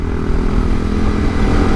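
A BMW G310 GS motorcycle engine drones loudly close by with a low, throbbing hum, held at an even pitch rather than climbing in revs.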